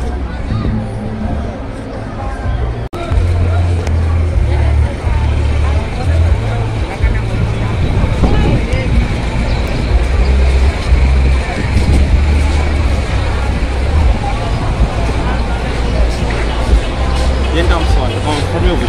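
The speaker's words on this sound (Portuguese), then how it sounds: "Essa terminal de carros semicoletivos, muito cheio." A crowded minibus terminal in Mozambique fills the air with a dense hubbub of voices, idling engines and traffic rumble, loud and continuous, with people chatting throughout.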